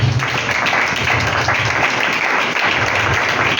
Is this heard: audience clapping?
yes